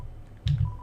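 Telephone dialing tones in Undertale, a brief electronic beep burst with a low hum, short and close, alone.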